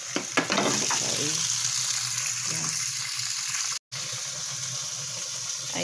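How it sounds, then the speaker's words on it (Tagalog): An automatic washing machine running with plenty of water, giving a steady close rushing, sloshing wash with a few small knocks near the start and a brief cut partway through. "Tingnan mo nyo, ganun yung washing machine dito."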